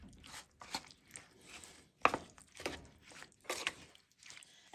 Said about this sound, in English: let's get all this mixed together